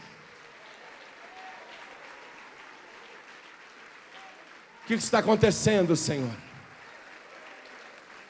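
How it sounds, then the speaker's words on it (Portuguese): Church congregation applause continues as a soft, steady wash of clapping in the background while someone speaks loudly over it near the end. "vamos aplaudir mais."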